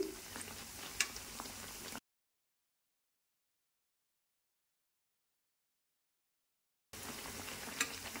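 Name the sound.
onion fritters (piyaju) frying in oil, being flipped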